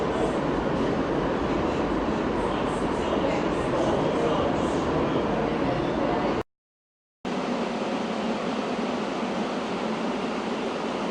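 Istanbul's F1 funicular train running through its tunnel, a steady loud rumble and rattle of the railcar that holds throughout, broken by one brief dropout of near silence partway in.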